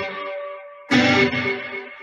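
An electric guitar rings out sustained notes, then a louder strummed chord enters, its sound repeating in a soft trailing echo from a Strymon Timeline pedal emulating a Boss analog delay.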